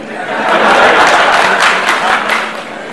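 An audience at a political social media volunteers' meeting in Kolkata breaks into loud, dense applause that swells quickly, holds, then fades slightly near the end.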